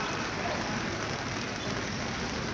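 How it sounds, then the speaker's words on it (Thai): Steady rain pours down at the quiet Savannakhet–Mukdahan border crossing, an even, dense hiss of drops on surfaces that runs throughout with no pauses. "ฝนตกแฮงไหม"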